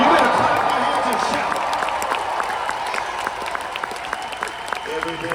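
A church congregation claps and cheers for an arriving speaker, the applause loud at first and then tapering into scattered claps while a voice talks over it.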